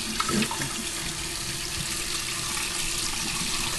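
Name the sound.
rinsing out a bowl under the tap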